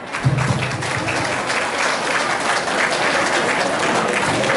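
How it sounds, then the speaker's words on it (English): A crowd claps at a Mississauga community awards presentation, producing a dense, even wash of applause that runs unbroken for the whole stretch without any voices over it. "Please give them a big applause."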